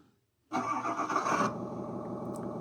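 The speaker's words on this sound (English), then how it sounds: "and that's engine start" Engine start on the sound card of a model Volvo L120 wheel loader: after half a second of silence the start sound rises sharply and loudly, then drops to a steady idling hum that carries on to the end, close and alone.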